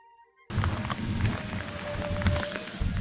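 Steady rain falls on hikers outdoors, a dense patter of drops on surfaces that starts abruptly after a brief quiet moment and continues evenly.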